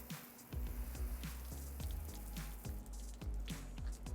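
Water rinses Armus Shark Gel and loosened growth off a boat hull, giving a steady wash of splashing and dripping over a low rumble, with repeated soft thuds and splats close by.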